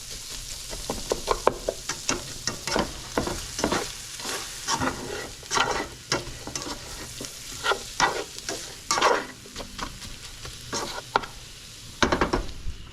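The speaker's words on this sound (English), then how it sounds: "And then just give that a quick stir." Food sizzles steadily in a pan while a utensil stirs it, scraping and clattering in irregular bursts close by, alone without talk.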